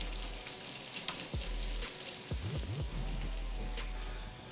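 Thin straw-cut potatoes and sweet potatoes deep-frying in hot oil, a steady close sizzle with occasional louder bubbling bursts and a few clinks of utensils.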